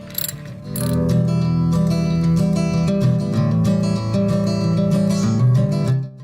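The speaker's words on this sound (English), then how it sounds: "the first thing I'm gonna loosen is this pivot bolt" A ratchet works the pivot bolt of the drive belt tensioner on a 1997 Toyota Corolla, giving a loud, close, steady buzz of rapid clicking that runs for about five seconds before stopping abruptly.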